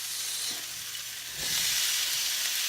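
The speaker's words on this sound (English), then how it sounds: "Then we're going to stir in the tomatoes" Tomatoes are stirred into a hot pan for a bruschetta fish topping, giving a steady close sizzle and frying hiss that swells louder partway through as they hit the pan.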